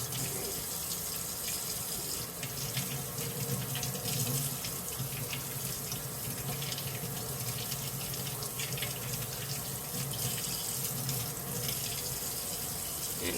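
A kitchen tap runs steadily into a sink while boiled eggs are peeled under the stream, a constant close splashing rush with faint handling sounds.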